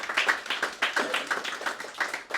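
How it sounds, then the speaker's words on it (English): Close, distinct clapping from a small group at a cricket club's 2024 annual awards ceremony, about a dozen crisp claps in a steady rhythm, with no talk over it. "I think a round of applause goes out to every one of you."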